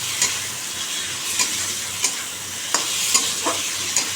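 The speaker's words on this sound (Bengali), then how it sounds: "এখন আমি করছি ডিমটা কষা করে একটু কষা কষা করবে ডিমটা" Eggs sautéed with onion, green chilli, salt and turmeric sizzle steadily in a pan while a spatula scrapes and stirs at a regular rhythm, with sharp clicks every half second or so; no talking.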